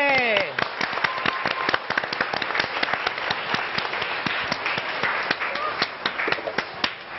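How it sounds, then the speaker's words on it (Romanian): Dense crowd applause at a live televised 1 December Romanian National Day concert, sharp, rapid claps crackling throughout, loud and sustained from start to finish, with some voices mixed in. "Aplauze!"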